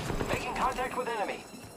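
Gunfire in the battle-royale video game Apex Legends, a dense burst of rapid shots and clattering mechanical hits packed into under two seconds, loud and continuous with no pause.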